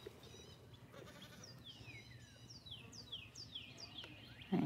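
A baby goat and its mother bleat on a farm in Georgia, a series of short, wavering bleats that grow more frequent and a little louder toward the end over steady low outdoor noise.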